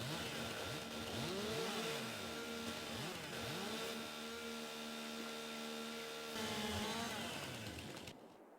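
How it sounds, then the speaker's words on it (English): A chainsaw in a survival game runs steadily, its engine droning with repeated rising and falling revs, then cuts off abruptly near the end. "All right, turn that chainsaw upright."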